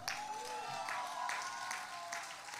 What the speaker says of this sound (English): I want you to Say hello to them with a big applause